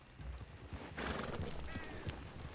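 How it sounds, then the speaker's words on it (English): Horse hooves clip-clop steadily in the RedM video game while a horse neighs midway, both fairly faint against a busy background hiss, with no talking. "I think that's Dahlia's horse."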